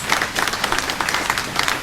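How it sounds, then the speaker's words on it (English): An audience applauds graduates at a hair and beauty school graduation ceremony, with dense, even clapping that holds steady throughout at close range. "Let's give them a round of applause."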